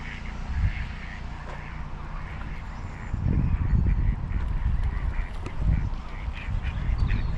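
Ducks quack and honk by a river near Coxgreen Bridge, several birds calling in irregular bursts over steady outdoor water and wind noise, fairly close.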